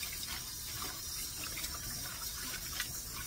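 Tap water runs steadily over meat being washed in a kitchen sink before cooking adobo, a quiet continuous splashing stream with no talk.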